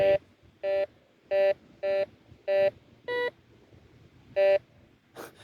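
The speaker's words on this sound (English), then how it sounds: "I can hear the beeping echoing off the building." A metal detector gives a series of short, evenly spaced electronic beeps, seven or so in a row, loud and clear with brief gaps, echoing off a building at a beach, ending in a faint rustle.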